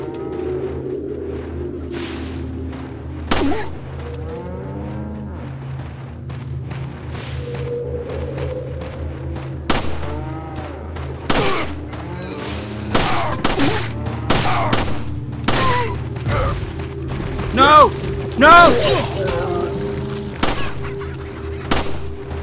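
Gunshots ring out in Resident Evil 4, scattered sharp bangs coming singly and in quick bursts over a droning game background, with some loud, close reports toward the end.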